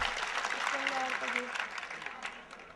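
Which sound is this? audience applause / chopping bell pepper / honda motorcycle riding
audience applause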